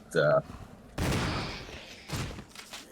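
Shotgun blasts in the Resident Evil (2014) survival horror game, aimed at a dangerous hunter creature: two loud, booming shots about a second apart, each with a decaying tail, after a brief voice-like sound.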